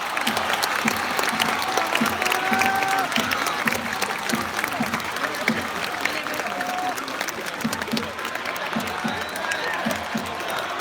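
Loud, dense crowd cheering and applause from the opposing team's supporters at a Japanese baseball game, a continuous roar with rhythmic chants and whistle-like tones running throughout.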